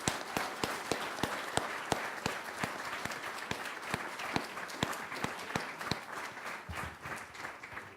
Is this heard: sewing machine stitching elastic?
no